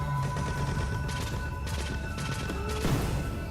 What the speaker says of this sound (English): They make some weird pot sounds. Okay. Like a ceramic pot.